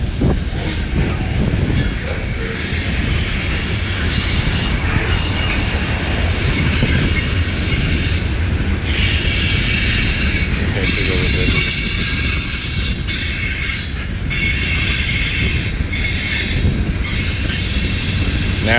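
A loud Norfolk Southern freight train with a trailing SD40-3 locomotive rolls past close by in Gaffney, South Carolina, its heavy rumble steady throughout, with metallic wheel squeal and rattling cars, plus strong wind buffeting.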